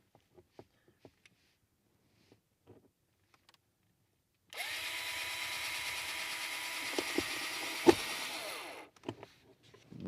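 A power drill drives self-tapping drywall screws into a holster mount, one steady close whirring run of about four seconds that stops abruptly, preceded and followed by faint handling clicks.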